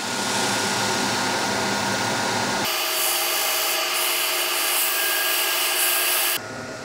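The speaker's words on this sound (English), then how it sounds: "Now get your cloth, fold it over, pinch method. Buff that in, generate some heat." A folded cloth pressed against a spinning Australian hardwood platter on a wood lathe gives a steady, loud rubbing hiss over the lathe's hum, which shifts abruptly partway through and again near the end.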